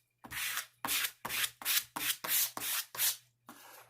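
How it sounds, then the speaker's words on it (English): Quick rhythmic rubbing strokes across a vinyl decal to push out a trapped air bubble, about eight close, even scrubbing swipes followed by a brief pause and one final stroke. "poke a hole in it, and just rub the air out"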